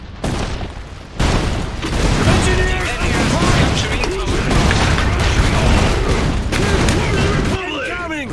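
In the strategy game Iron Harvest, a dense, continuous barrage of booming artillery and gunfire fills a battle, loud and unbroken, while short unit voice lines speak over it.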